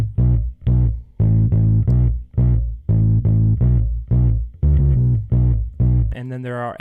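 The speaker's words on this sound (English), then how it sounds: "really dope bass line" A distorted, punchy bass line plays in short repeated notes with brief gaps between them, loud and upfront, ending on a buzzy, warbling tone.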